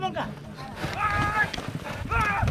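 Horses gallop during a kopkari (buzkashi) horseback game in Kogon district, with quick hoofbeats thudding under a loud announcer's voice and crowd talk.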